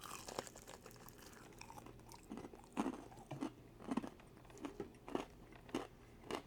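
A frozen spring roll being chewed close up, a series of crunchy bites and grinding chews in an irregular rhythm, loud against a quiet background.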